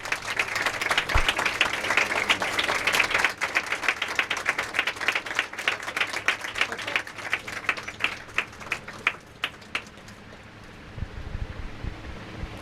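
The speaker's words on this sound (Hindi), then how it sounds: "खुदा के खादम पास्टर साजिद सरदार को बुका देकर उनको वेलकम करेंगे कि वो खुदा के कलाम की खिदमत कर सकें आपकी भरपूर तालियों के साथ।" Applause from a church congregation during a service, a dense patter of clapping that thins into scattered claps and fades out near the end.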